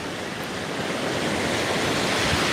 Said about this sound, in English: Can you guys hear the waves?